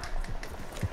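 Horse hooves clip-clopping in Red Dead Redemption 2, a short burst of steady close footfalls over a low, busy game background.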